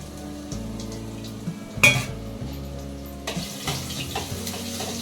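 Garlic goes into a hot dal tempering with curry leaves and sizzles steadily in the pan. A ladle knocks and stirs, with one louder metallic clatter partway through, and no voices.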